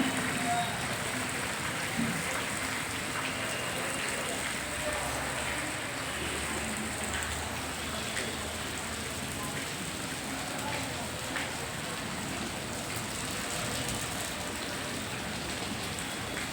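Steady rain falls in Gundlupet, a continuous even patter on surfaces that runs unbroken throughout.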